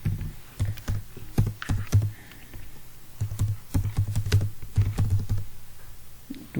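Rapid, fairly loud keystrokes on a computer keyboard as C code is entered, clattering in uneven bursts with brief pauses, alone with no voice.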